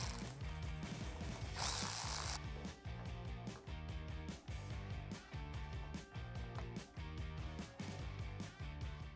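A ratchet fitted with a 3/16 hex bit works loose the bolts of the right-side brake master cylinder on a Harley bagger, giving a steady run of rapid ratcheting clicks close up, with a brief hiss early on and no talking.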